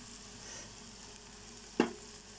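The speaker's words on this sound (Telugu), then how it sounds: "ఇలా వేగిన తర్వాత కాసేపు మూత పెట్టుకొని ఫ్రై చేసుకోవాలండి" Chicken curry fries in a pan with a soft, quiet, even sizzle. A single sharp clink sounds near the end.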